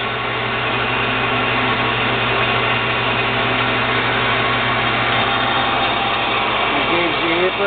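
A TURNPRO 14x40 metal lathe runs in reverse with a steady, loud mechanical hum and whine that holds constant throughout, with a slight shift in tone near the end.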